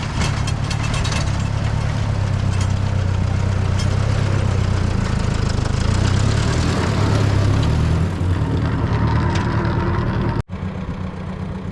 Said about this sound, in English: this garden and this sod like this is probably really pushing that little tractor and tiller to the max